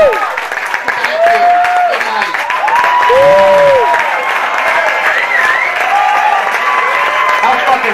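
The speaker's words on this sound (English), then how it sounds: "Clap for Bob Dibuono." Audience applause and scattered cheers fill a comedy roast honoring Rich Vos, a steady broadband roar of clapping lasting several seconds while someone speaks over it in the foreground.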